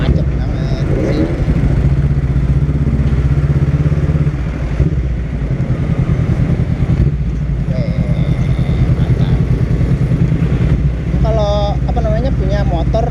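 Honda Rebel 500 motorcycle riding through congested city traffic on Jalan Soleh Iskandar, a steady low engine rumble running throughout with someone talking over it.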